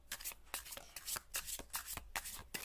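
Oracle cards shuffled by hand for a tarot-style reading, soft quick riffling bursts repeating in a steady rhythm, close and quiet with no talk.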